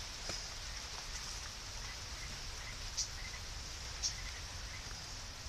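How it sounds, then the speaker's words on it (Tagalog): Rain falls outdoors as a soft, steady patter with a couple of louder drips standing out, while insects chirp faintly in the background. "Umuulan na."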